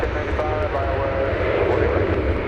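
An American Airlines jet departs DFW Airport with a loud, steady engine roar and a thin tonal whine, while a person talks over it.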